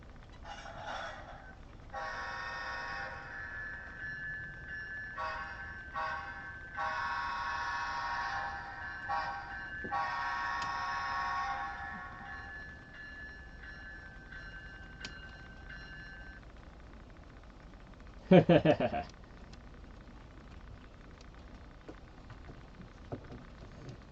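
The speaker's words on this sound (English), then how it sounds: "Well, I'm glad the locomotive is starting to work better" A model train locomotive runs on a small loft layout, sounding several electronic horn toots over a faint running rumble, followed later by a brief, sharp clatter, with no talk.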